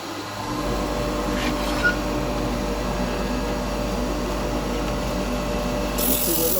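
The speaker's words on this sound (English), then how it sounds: "We just run a bit of sandpaper over it." Sandpaper rubbing against a small wooden vase spinning on a lathe, a steady, fairly loud abrasive hiss over the motor's low hum, continuous for several seconds with no talk.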